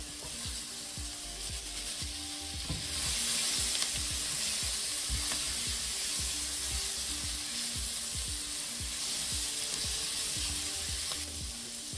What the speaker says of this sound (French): À présent, on ajoute nos carottes.